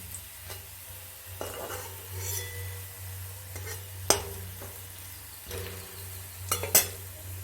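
Dried red chillies temper in hot oil for a Bengali mixed dal, a soft sizzle under a low hum, broken by a spoon stirring and clinking against the pan several times.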